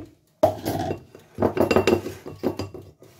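A spoon stirs a mixture in a bowl for a Kaiserschmarrn sweet omelette, with a short silence and then bursts of clinking, scraping strokes against the bowl, close and fairly loud.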